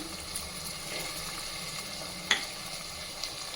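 Tomatoes and black pepper cooking in a hot pan for cooker khichdi upma, a steady even sizzle with one sharp clink partway through, close and without any speech.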